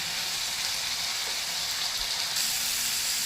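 A soft, even hiss comes from a tempering roasting in a pan, a continuous sizzle close by with no talk.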